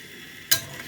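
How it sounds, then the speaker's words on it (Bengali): Beef and liver sizzle softly in a pan, then a single sharp scrape of a spoon stirring the meat cuts through with a brief clatter before the low frying hiss resumes. "কষাচ্ছি।"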